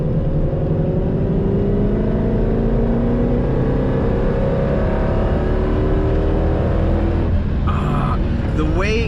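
A Mercedes C63 AMG W204 pulls hard in fourth gear, its engine note rising steadily and smoothly in one long sweep, loud and close from inside the car, before a brief shift and a few faint voice sounds near the end.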